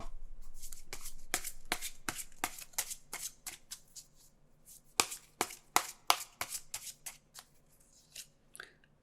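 Tarot cards are shuffled up close and alone, a run of crisp riffling bursts in irregular rhythm with brief pauses between.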